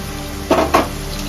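Onion, ginger and garlic fry in a pan for paneer butter masala, giving a low steady sizzle broken by two short, louder stirring scrapes close by.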